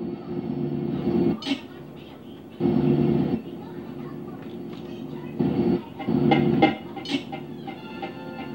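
A train in GTA San Andreas rumbles steadily with rhythmic clatter and swelling bursts of engine noise, game-like and continuous, with occasional higher metallic accents.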